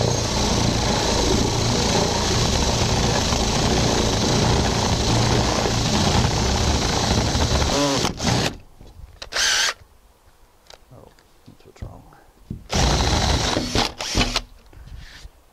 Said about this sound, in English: to drill a hole through this hardy backer board, I'll just use a spade bit, a wood spade bit